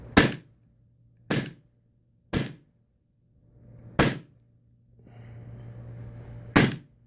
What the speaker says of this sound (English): So I'll show you guys how this slide operates with the propane